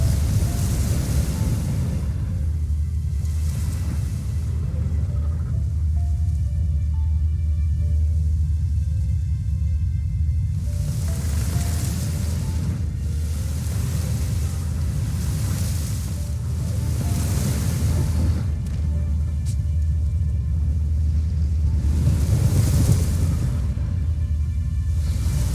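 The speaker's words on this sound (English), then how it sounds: "A storm, damn it." A storm in The Witcher 3 rolls through as heavy, continuous rain and wind with deep rumbling thunder swelling and fading in repeated waves, loud and enveloping.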